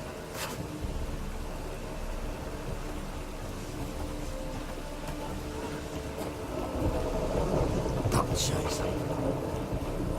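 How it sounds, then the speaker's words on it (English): Rain falling with rumbling thunder in The Witcher 3, a steady wash of rain under low rolling rumble, with a few sharp crackles near the end and no clear talk. "Rain, I like that."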